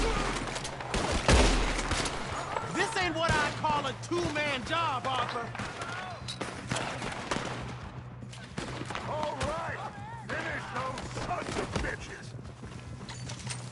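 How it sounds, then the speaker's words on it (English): Repeated gunshots crack through a Red Dead Redemption 2 frontier shootout, scattered close reports among hoofbeats and shouted voices, with people talking throughout. "Good shooting, kid."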